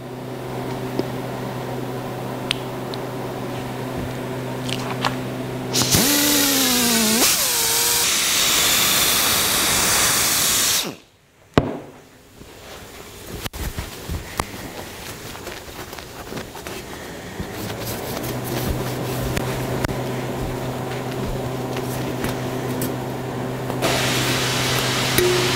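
Machine polisher with a soft foam pad working over the paint of a 1955 Packard Patrician, a steady droning whine with rising tonal sweeps, a sudden cutout midway, then the motor spinning back up and running on alone.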